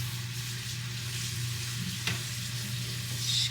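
Salmon bites sizzle and fry steadily in a pan in a home kitchen, a continuous broadband crackle with a low hum underneath and a brief clatter near the middle.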